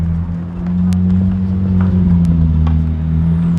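A Ferrari pulls into a back lot, its engine a steady low drone that swells slightly as it nears, fairly loud and with no voices over it.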